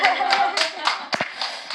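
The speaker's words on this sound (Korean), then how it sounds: "할렐루야와 감사로 박수로 맞이하겠습니다" A church congregation claps to welcome a missionary to the front, with brief bursts of handclaps over music and a soft background voice.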